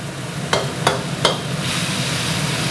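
Chicken liver stir-fried in a pan with three-colour peppers: three sharp spatula scrapes in the first second and a half, then a steady, fairly loud sizzle with no voices.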